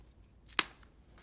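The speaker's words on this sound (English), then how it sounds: "we simply cut off the wood pick." A wooden pick is snipped off a pine cone for a Christmas apothecary jar display, one sharp quiet cut near the middle and a second short snip at the end, close and otherwise hushed.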